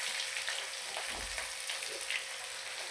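Green chili and onion fry in hot oil for Maharashtrian besan zunka, giving a steady close sizzle with soft stirring scrapes and no talk.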